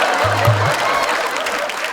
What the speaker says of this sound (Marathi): एकदा जोरदार टाळ्या माझ्यासाठी झाल्या पाहिजे